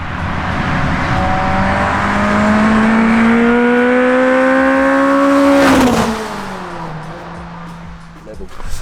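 A racing Mk1 VW Golf with twin 45 carburettors and a 240 bhp engine, revving to 8,500 rpm, climbs steadily in pitch as a loud, close engine note, then drops sharply off throttle and fades to a lower drone.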